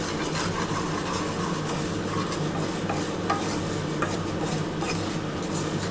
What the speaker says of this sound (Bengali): চিনিটার সাথে কিন্তু সুজিটা ভালো করে নাড়াচাড়া করতে হবে